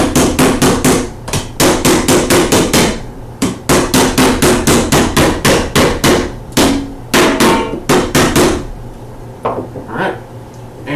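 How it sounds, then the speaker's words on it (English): A hammer pounds a big lid onto a big tin can in rapid bursts of loud, sharp blows with ringing clanks, pausing briefly between volleys before a few lighter taps at the end. "Big lid on the big can. And we will hammer it shut."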